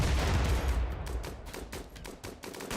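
Rapid bursts of colonists' gunfire in RimWorld, a dense volley of overlapping shots at steady loudness throughout, with no speech.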